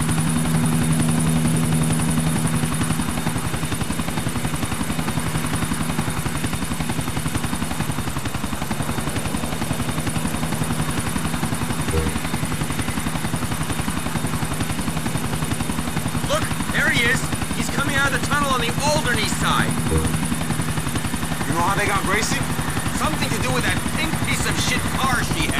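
A helicopter in the video game GTA 4 drones with a loud, constant rotor hum throughout, while people talk over it in the later part.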